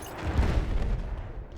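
Dense rumbling explosion in the video game Battlefield 1, with a loud boom near the start that rolls into sustained low crackling and rumble.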